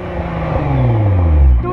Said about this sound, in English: V10. Rev it up!